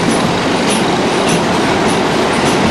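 Class 37 diesel locomotives haul empty coal wagons toward Oakdale Colliery, a loud, steady rumbling roar of passing rail traffic with faint periodic wheel clatter and no voices.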